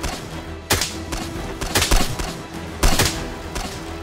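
Gunfire in the Miscreated survival shooter, several sharp shots cracking out at uneven intervals, some in quick pairs, loud and close over a steady low ambient hum with no talk.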